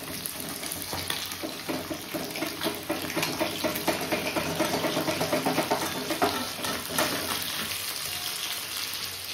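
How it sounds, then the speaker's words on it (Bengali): Bhola fish sizzling as it fries in a pan, a steady, close crackle and hiss with bubbling, continuous throughout and alone with no talk. "মাছটা অলরেডি প্রায় ভাজা হয়ে গেছে। আর একদিকে না ভাতটাকে একবারে বসিয়ে দিয়েছে, মাছ ভাজা হচ্ছে।"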